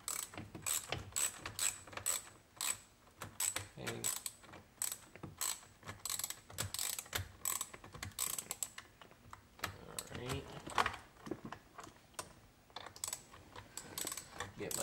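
A socket ratchet clicks in quick, close bursts of pawl ticks while tightening a fastener on a carbon fiber digital steering wheel being fitted to a C8 Corvette, with scattered metallic handling noises between the runs.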